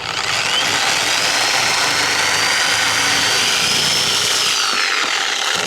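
A Sawzall reciprocating saw cuts through a wood railing post beside stone steps with a loud continuous buzzing rasp, close up and steady throughout, with no talking.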